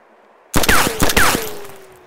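Gunfire in the survival video game DayZ: a sudden loud burst of rapid automatic shots with sharp cracks and ringing echoes, close and dominating, fading into a lingering tail with no talking.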